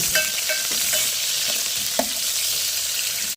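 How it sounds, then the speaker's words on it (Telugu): Onions and green chillies fry in hot oil with a steady, loud sizzle, broken by a few light stirring taps and one sharper clink near the middle, with no voices. "ఇంకా ఉల్లిపాయలు పచ్చిమిరకాయలు వేసుకున్నాం కదా, బాగా తీసుకున్నాం."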